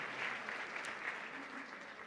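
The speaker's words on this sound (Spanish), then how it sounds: "Dale un fuerte aplauso al Señor por su amor y por su misericordia" A church congregation claps steadily and evenly for about two seconds, a dense sustained patter of many hands at moderate volume with no voices.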